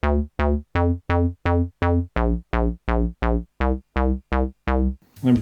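Square wave bass from a Korg Volca synthesizer, fourteen evenly spaced punchy notes on the backbeat shifting pitch partway, loud and close with no voices.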